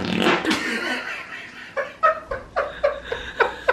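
A loud, short fart after a meal of beans, in a kitchen during cooking, followed by a series of short bursts of laughter.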